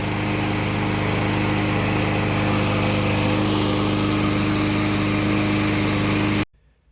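Craftsman lawn mower with a Briggs & Stratton engine running steadily at a constant loud drone with buzzing harmonics, close by, then cutting off abruptly near the end.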